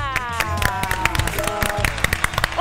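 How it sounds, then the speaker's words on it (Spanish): Studio audience applauding a guest's arrival on a Spanish-language talk show, brisk continuous clapping of many hands with sharp individual claps standing out, mixed with a few cheers. "Fuerte el aplauso, señoras y señores."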